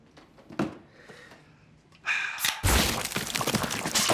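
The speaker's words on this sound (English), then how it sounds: "another exploding head" A head explodes in an episode of The Boys: a few quiet thuds, then a rising gasp-like burst and a loud, wet, crunching shatter that keeps up as dense, messy noise to the end.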